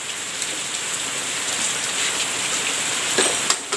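Steady rain pours down on surfaces in a village, a dense continuous hiss with occasional louder drops and taps, heard alone without talk.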